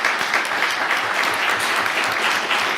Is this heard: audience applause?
yes